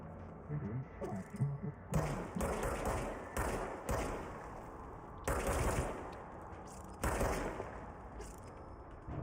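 Jesse fires her gun in the video game Control, in several bursts of loud, close shots separated by short pauses across the clip.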